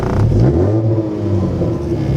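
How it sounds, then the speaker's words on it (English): A car engine revs loudly and close, its pitch rising and settling in a strong low rumble, heard alone without talk. "Maybe if I just rev my car, I'll come outside."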